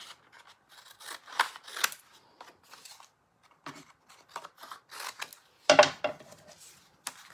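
Scissors trim the edge of paper for a handmade tea card, with several short crisp snips in uneven bursts, close and fairly quiet with pauses between.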